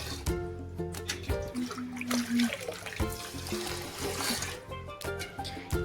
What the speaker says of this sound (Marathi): यानेच पाणी टाकायचं आहे त्याच्यात.